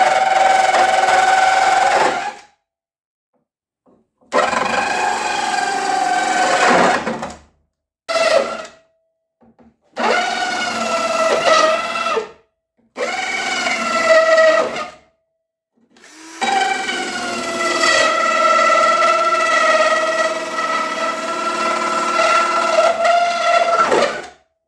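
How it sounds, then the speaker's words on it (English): A drill-driven circular saw bit whines through fiberglass in five bursts separated by short pauses, high and grinding up close. "I'm going to be using this little circular saw piece that sits in the drill."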